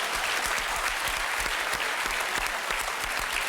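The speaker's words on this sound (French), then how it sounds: "On peut quand même applaudir, franchement, parce que Samy" Steady applause from a TV game show studio audience fills the whole stretch, many hands clapping in a dense, continuous patter at moderate volume.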